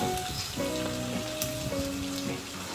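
Fish head frying in a pan with dried fish, onion and garlic paste, a steady close sizzle lasting the whole moment, with faint tonal music running underneath.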